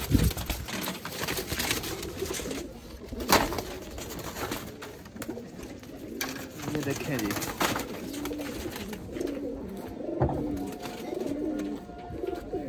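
Domestic pigeons coo softly and steadily in the background while someone talks close by throughout.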